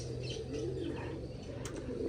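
Soft, low pigeon cooing comes through faintly in a quiet setting, a brief murmuring call with a light chirp and a short flutter near the end.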